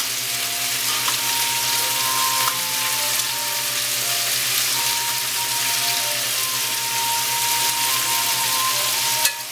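Stuffed squid fries in a pan on high heat, giving a steady, close hissing sizzle with faint crackles and no voices.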